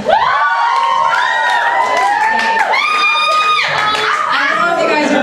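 Audience at a comedy stand-up set at New York Comic Con cheers loudly, with whoops and shrieking voices, a dense sustained roar lasting several seconds.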